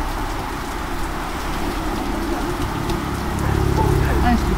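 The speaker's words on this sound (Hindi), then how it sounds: "बाहर बहुत बारिश तेज है।" Heavy rain pours outside near a restaurant, a dense steady hiss of drops on surfaces that swells slightly toward the end, with voices talking underneath.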